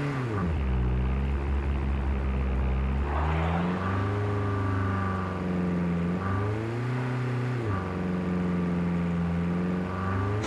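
Aircraft flying overhead in the Call of Duty: Mobile video game, a loud, continuous droning engine whose pitch rises and falls as it passes, with no voices.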